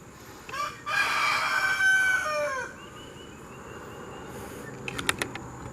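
A rooster crows loudly nearby in one long drawn-out call, followed by quieter ambient farmyard sounds and a few faint clucks and scratches near the end.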